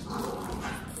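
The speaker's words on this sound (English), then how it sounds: "Can you hear those dogs in there? They're just going crazy." Several dogs barking excitedly from another room of a home, a steady continuous clamour heard from a distance while someone cooks in the kitchen.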